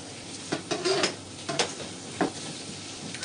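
Large garlic cloves fry in a pan with a soft, steady sizzle, broken by close scraping stirs and light clinks of a utensil against the pan.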